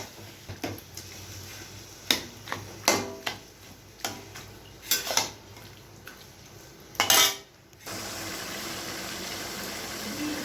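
A utensil stirs taro leaves with turmeric in a metal cooking pan, giving a series of irregular, close metallic clinks and scrapes, and then a soft steady background hiss follows.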